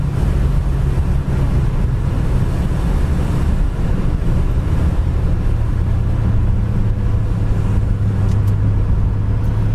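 A 1970 Ford Torino's 351 V8 engine drones steadily as it accelerates, heard from inside: a low constant rumble with road and wind noise, no talking.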